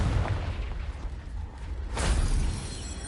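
Blasting spell exploding against rocks in Hogwarts Legacy, a deep rumbling boom with a second sharp burst swelling midway, loud and close, no voices.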